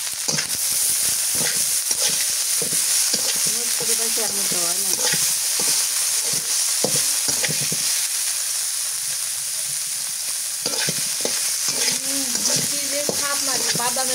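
Continuous frying sizzle and hiss of food being stirred in hot oil in a pan, with scraping stir strokes throughout, loud and close, while voices talk over it intermittently.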